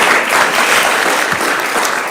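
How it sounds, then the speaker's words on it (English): Dense, steady applause at a virtual awards event honoring nurses, continuous clapping of many hands throughout, fairly loud and close. "Unmute your applause."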